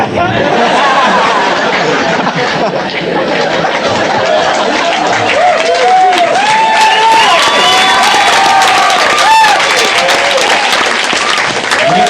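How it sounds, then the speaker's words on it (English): Comedy club audience applauds loudly and continuously, dense clapping mixed with cheers, chuckles and crowd chatter, while someone talks over it. "You guys are only clapping because there's a CD recording going on."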